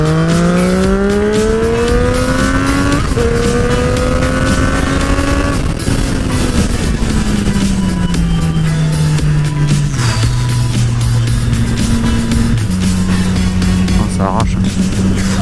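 A Triumph Street Triple 765R motorcycle ridden two-up accelerates hard, its loud engine rising through gears with stepped shifts, close to the rider's microphone under wind noise, then settling into a steady lower drone.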